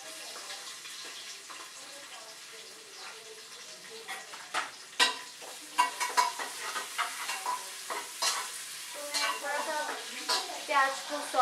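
Chopped onions sautéing in a kitchen pan, with a soft steady sizzle punctuated by repeated clinks and scrapes of stirring that grow busier partway through.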